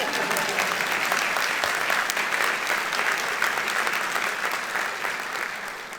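A large audience at a doctoral hooding ceremony claps steadily for several seconds, a dense, sustained wash of applause that tapers slightly toward the end.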